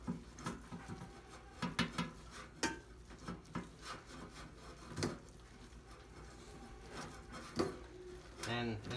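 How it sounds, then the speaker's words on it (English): Peanut butter being worked by hand into cooked noodles, heard as close, sticky rubbing and squelching in uneven strokes with occasional sharper scrapes, fairly quiet. "you glob the peanut butter in the noodles, and you just kind of stir it around, just like this"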